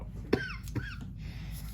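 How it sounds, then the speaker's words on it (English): Two short, harsh coughs in quick succession, close and fairly loud over a low steady hum. "My cough has been absolutely horrible."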